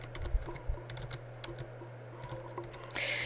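Quick, close keystrokes on a computer keyboard type out a hypertext link for an APA reference, coming as irregular clicks over a low steady hum.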